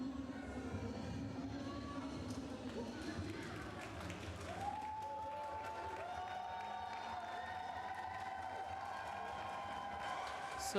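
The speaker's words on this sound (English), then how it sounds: "we can hear the supporters cheering for both of the teams as the speaker asks them to do so" Supporters at a roller derby tournament in Brussels cheer for both teams. The crowd noise is fairly distant, with clapping and scattered shouts under a voice speaking, and a few sharp whistle-like tones.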